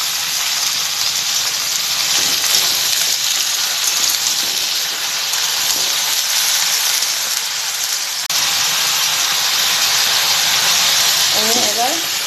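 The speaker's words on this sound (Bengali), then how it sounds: "ডিম ভাজিটা বসিয়ে দিলাম।" An egg omelette fries in a pan with chilli and onion, giving a steady, loud hiss and sizzle that runs unbroken throughout.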